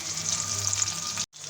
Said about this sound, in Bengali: আমি সবগুলো মাছ তেলের মধ্যে দিয়ে দিয়েছি। চুলার আঁচ স্লো রেখে ভেজে নিতে হবে ভালোভাবে।